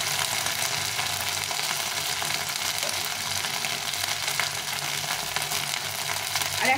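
Cumin powder frying with ginger and green chili paste in a pan for a gourd and fish curry, heard as a continuous close sizzle with soft stirring scrapes and no voices.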